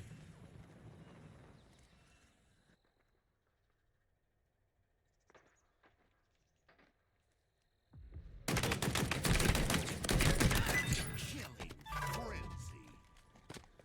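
Machine gun fire in the video game Halo Infinite erupts after a quiet stretch as a loud, dense, sustained burst of rapid shots lasting several seconds, with talking heard before it.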